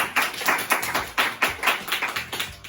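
A class audience at a science quiz claps in a quick rhythmic pattern, with sharp, closely spaced claps repeating steadily and loud for a few seconds.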